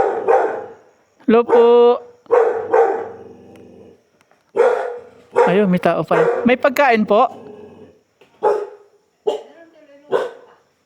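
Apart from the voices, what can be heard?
guard dog barking at visitors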